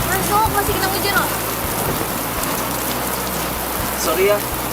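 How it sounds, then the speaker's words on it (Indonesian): Steady rain falls in a continuous, even hiss that holds at about the same loudness throughout, with no voices and only a faint low rumble underneath. "Masuk, masih kena hujan loh."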